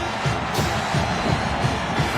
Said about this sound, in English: This crowd is rowdy.